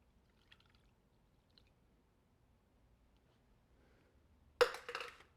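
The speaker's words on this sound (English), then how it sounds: "And then you add your water." Water poured into a bowl of liquid dish soap for homemade bubble mix, a short splashing pour arriving abruptly after near silence, close and fairly loud, with faint kitchen sounds before it.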